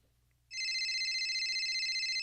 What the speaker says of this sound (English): I'll do a phone ringing sound effect